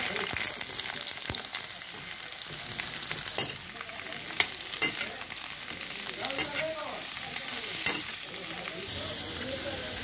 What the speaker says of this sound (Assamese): লগতে তেল গৰম হোৱাৰ লগে লগে মই বেঙেনাখিনি অলপ ফ্ৰাইকৈ ল'ম।